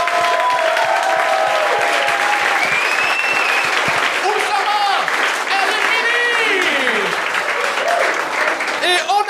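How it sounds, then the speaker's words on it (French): Applause and some cheering from a studio audience on a televised talent show, a loud, sustained crowd wash under a host's voice and whistling or whooping tones that rise and fall above it. "On peut-tu l'applaudir, s'il vous plaît?"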